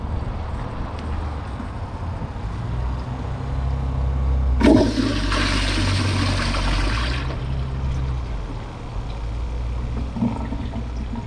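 A 2025 Kohler Pressure Lite pressure-assist toilet flushes with a sudden loud whoosh that surges for about two and a half seconds, then fades into a softer rushing refill, heard up close after several seconds of low room noise.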